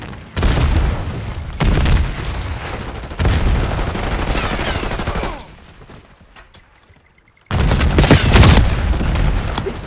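Call of Duty gameplay erupts with a Semtex grenade blast and bursts of rapid gunfire, loud dense volleys broken by a brief lull before another heavy barrage.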